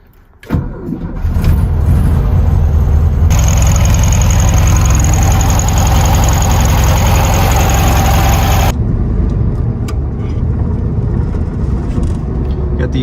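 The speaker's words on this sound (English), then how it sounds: "Got the 1500cc air-cooled motor." An air-cooled 1500cc Volkswagen Beetle engine starts with a sudden burst, then runs at a loud, steady rumble that swells to a raised rev in the middle before settling back to idle. A voice is heard near the start.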